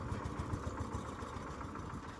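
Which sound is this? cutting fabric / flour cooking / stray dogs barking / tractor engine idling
tractor engine idling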